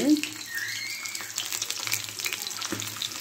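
Hot oil crackles and spits as fish fries for Tamil-style meen varuval, a quiet, uneven splatter with a brief faint tone partway through.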